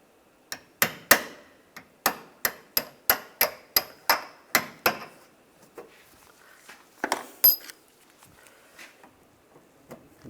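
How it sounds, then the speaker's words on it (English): A punch is struck repeatedly with a hammer to knock out a rivet center on a 2014-2019 Toyota Corolla bumper cover: about a dozen sharp, evenly spaced metallic taps, then a few scattered softer knocks. "Just using a punch to just punch out the center."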